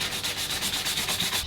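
Rough, rhythmic sanding strokes scrub across a plastic car bumper in a steady back-and-forth pattern, close and even, with no voices.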